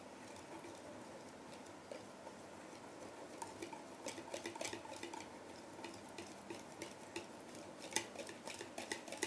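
Quiet stirring of a thickened cake cream mixture in a plastic Tupperware container, with soft scraping and irregular light clicks of a utensil against the sides, growing slightly busier toward the end.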